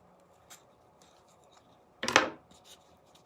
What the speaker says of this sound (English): you're just going to want to take your scissors to kind of make that opening a little bit bigger